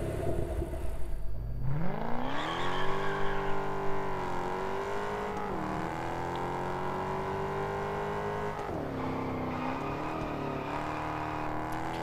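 Car engine in Test Drive Unlimited Solar Crown, idling low, then revving up and holding a steady, loud drone through gear changes during a test drive, alone with no talk.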